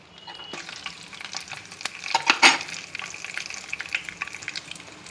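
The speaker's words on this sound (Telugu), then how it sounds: "ఎండుమిరపకాయలు ఆవాలు జీలకర్ర మినప్పప్పు వేసి వేగనివ్వాలి" Dried red chillies, mustard seeds, cumin and urad dal sizzle and crackle in hot oil for a spinach pulusu curry, a steady close fry with occasional popping and a spatula stirring, no voices.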